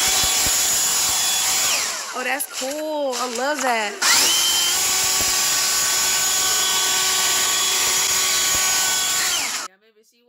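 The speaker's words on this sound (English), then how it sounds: "he about to use a leaf blower." A leaf blower runs steadily with a loud, constant whining roar that holds pitch throughout and cuts off near the end, while a person speaks briefly over it.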